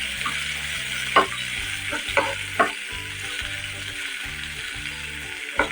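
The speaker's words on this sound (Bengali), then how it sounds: "একটু নেড়ে ছেড়ে ভাজা ভাজা করে নেব" Close, steady sizzling of cauliflower and potato frying in oil, broken by a few sharp scrapes and clanks of stirring in the pan.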